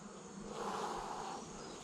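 Honey bees buzzing inside a large, opened hive, a dense steady hum that rises slightly mid-way, close and fairly quiet with no voices.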